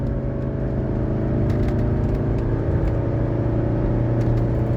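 A 1985 Mercedes 300SD diesel pulls hard through a rolling 0 to 60 run, its steady low engine drone and rumble heard from inside the cabin, constant and loud throughout with no talk.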